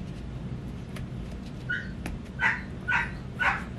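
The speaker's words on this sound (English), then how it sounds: "I don't know why my dogs are barking." Several dogs bark in three or four short bursts about half a second apart, at moderate distance, over a low steady background hum with no one talking.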